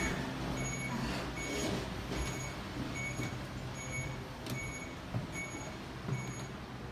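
A truck's reversing alarm beeps in a regular rhythm of repeated high tones over a steady engine rumble, moderately distant, with a brief air-brake hiss.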